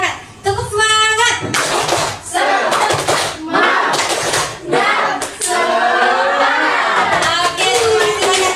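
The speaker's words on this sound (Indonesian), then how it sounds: "Tepuk semangat." Classroom group performing a 'tepuk semangat' rhythmic spirit clap, with bursts of sharp hand claps in a patterned beat mixed with children's chanted voices, loud and close.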